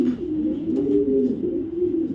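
A racing hen pigeon coos steadily and close by, a continuous low throaty rolling sound with no talk.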